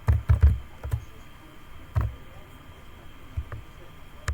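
Keys on a computer keyboard clack as a search query is typed into Google Chrome: a quick cluster of thuddy strokes at the start, then a few isolated taps spaced apart, close and unaccompanied.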